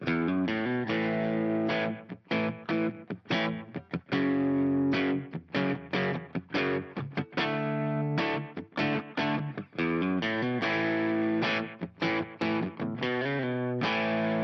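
A distorted electric guitar plays the first part of a pop country chorus, strumming choppy chords that follow the progression with small riffs added, close and driving with short gaps between hits, and no voices.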